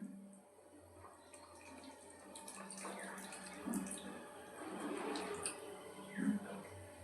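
Milk is poured into a pan of fried, steamed cauliflower while making a cauliflower roast, giving a soft, low-level, steady liquid splashing and trickling sound with a few brief louder splashes.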